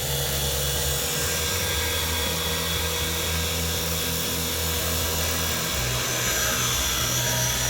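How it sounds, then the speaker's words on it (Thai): A radio-controlled Bell 206 model helicopter runs its rotor up to full speed, a loud, steady, close whine and buzz that shifts slightly in pitch near the end. "ให้ใบพัดหมุนจนสุดเสียงก่อนนะครับให้ใบพัดหมุนจนสุดเสียงฟัง"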